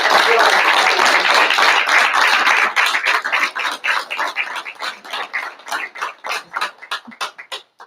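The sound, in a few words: audience applause at board meeting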